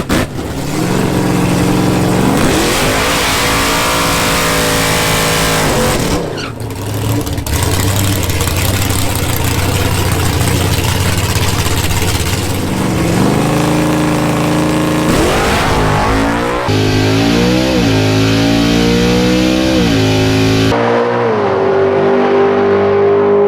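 A naturally aspirated Camaro with upgraded heads and cam tears down a drag strip, its engine roaring loud and close through repeated rising full-throttle runs and gear changes with no break in the noise.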